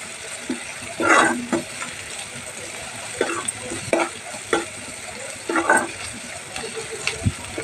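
Spices and turmeric frying in oil for a broad bean stir-fry, giving a steady soft sizzle with occasional stirring clinks and scrapes, close and moderately quiet.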